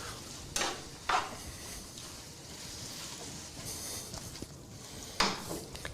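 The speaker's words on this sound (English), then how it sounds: "Then add our bean sprouts the last second, just to make sure that they're still nice and crispy." Bean sprouts are stir-fried in a pan for squid pad thai. Quiet sizzling is broken by several sharp bursts of tossing and scraping, with faint clinks in between and no talking.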